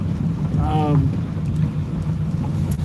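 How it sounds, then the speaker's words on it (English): Strong southwest wind blowing across Oneida Lake during a fishing outing, a steady loud low rumble buffeting the microphone throughout, with no clear talk. "We got a southwest wind. It's kicking."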